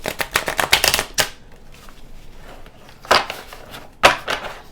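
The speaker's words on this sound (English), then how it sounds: "that was a really crappy shuffle. Let's try that again." A deck of stiff, little-used tarot cards is riffle shuffled in quick bursts of crisp fluttering snaps, with short pauses between shuffles, close and fairly loud.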